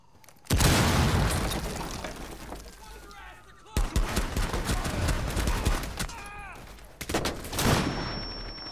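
In the Rainbow Six beta, a breaching charge detonates with a sudden loud blast, followed by more sharp bursts of gunfire and crashing impacts as the firefight continues.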